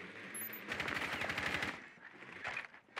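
Rapid automatic gunfire rattles in the Rainbow Six Siege video game, a fast burst of shots followed by a few more scattered bursts, fairly loud and close, with no talking.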